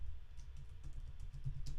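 Someone types a search on a computer keyboard. Quick, soft key taps come in an irregular cluster over a low background hum, close by and fairly quiet.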